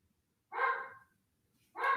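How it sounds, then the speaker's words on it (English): A dog gives two short, clear barks about a second apart, fairly close, with quiet between them during a livestream. "Sorry about the dog."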